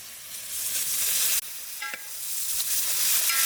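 Onions, tomato and green chilli fry in hot oil with a bright continuous sizzle, briefly cut and resumed with a few stirring clinks and scrapes, close and moderately loud.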